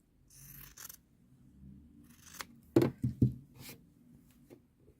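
Scissors trim away fabric for a Christmas cushion in a quiet room, with a few soft snips and then a cluster of sharper, louder cuts midway before it falls quiet.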